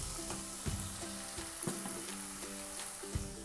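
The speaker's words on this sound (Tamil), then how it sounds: "இப்போ தக்காளி நல்லா வதங்கட்டும்." Tomatoes sautéing in a pan for a smelt fish curry give a steady sizzle and frying crackle, with soft stirring scrapes at intervals and no talking.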